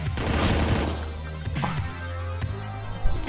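Gunfire in the top-down shooter Hotline Miami 2: Wrong Number during a harbour battle, a dense volley of shots over a low game soundtrack, ending in a sharper close blast.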